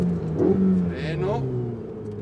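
A Ferrari accelerating on a race track, its engine drone rising steadily and close, under panicked, shouting voices from inside the car.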